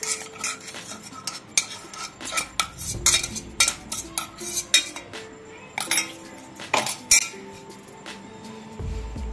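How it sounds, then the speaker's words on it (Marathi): A spoon stirs a filling of ground spice, nutmeg, cardamom, sugar and poppy seeds for traditional jaggery satori in a metal dish, giving repeated close clinks and scraping scrapes in an uneven rhythm, with no talking. "हे सगळं मिक्स करून घ्यायचंय।"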